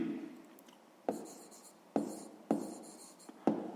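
Pen writing by hand on paper during a sixth-grade maths exercise, close scratchy strokes coming in short bursts with brief sharp taps between them, no talking.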